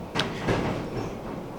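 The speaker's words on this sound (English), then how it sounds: "Sorry for the rattling of the doors." Doors rattling in strong wind indoors: two brief knocking rattles close together, then a faint, steady background rush.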